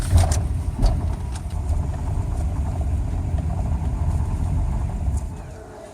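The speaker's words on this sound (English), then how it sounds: "Darn, those tour buses." Tour bus engines rumble loudly on a Jerusalem street, a steady low roar with a slight revving swell near the start that fades toward the end, with no voices.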